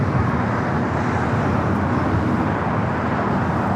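Airliner arriving on the south side of LAX in Los Angeles, a steady broadband roar of jet engines that holds loud and unbroken throughout, with no talk.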